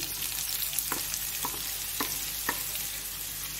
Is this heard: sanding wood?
no